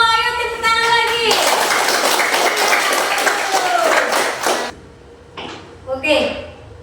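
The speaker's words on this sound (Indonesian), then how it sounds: "Ayo tepuk tangan lagi." Participants at a teacher-training session in a classroom break into a burst of clapping, dense and steady for a few seconds before stopping. Voices are heard before and after it.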